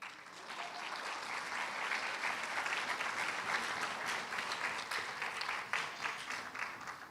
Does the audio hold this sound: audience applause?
yes